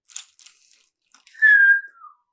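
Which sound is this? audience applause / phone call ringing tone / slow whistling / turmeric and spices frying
slow whistling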